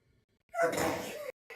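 A single close, loud sneeze bursting out sharply and trailing off over about a second, followed by a brief breathy noise.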